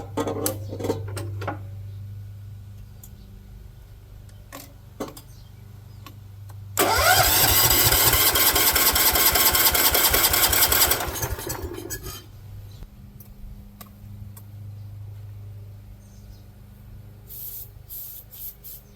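A rare 1970 garden tractor engine cranks and fires, roaring loudly and raggedly for about four seconds before dropping back to a quieter low hum, with no talk.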